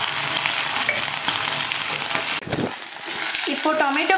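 Tomato ketchup sautés in a pan for chicken lollipop, a bright, steady sizzle and frying hiss filling the clip, briefly broken by a stirring clatter before the sizzling resumes with faint tonal clinks.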